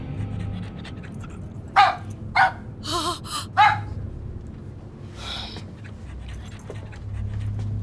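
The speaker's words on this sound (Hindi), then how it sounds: "कितना बदसूरत कुत्ता है।" A dog on a train gives several sharp barks and yips in a short burst, then pants briefly, all close by over a steady low rumble of the moving carriage.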